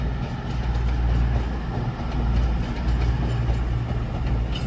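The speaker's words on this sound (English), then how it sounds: "Now also arriving in is that original Plymouth to Edinburgh service that I said was massively delayed, formed of 221130." A delayed Plymouth to Edinburgh express train, unit 221130, arrives at York station: a loud, steady rumble of engines and wheels rolls on with faint rail clatter and no speech.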